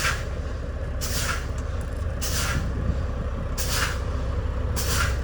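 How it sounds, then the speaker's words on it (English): A truck's air brakes are pumped to bleed down pressure, giving four sharp, evenly spaced hisses over the steady low rumble of an idling engine. "Next, you would pump the air brakes, pump the service brakes to lower the pressure."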